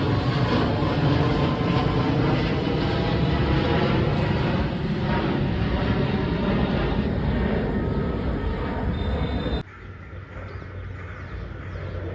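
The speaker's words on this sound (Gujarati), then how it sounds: "માથે જો એક વિમાન જાય છે" An airplane passes overhead above Ahmedabad early in the morning, producing a loud, sustained engine roar that fills the scene before it drops off abruptly near the end.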